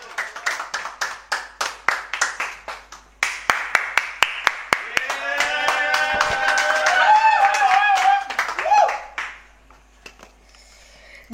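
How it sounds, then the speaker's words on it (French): At a comedy show, rhythmic clapping opens, then swells into fuller applause and cheering with voices shouting over it before fading to near quiet. "faire un tonnerre d'applaudissements pour celui qu'on appelle Marcelin Econ"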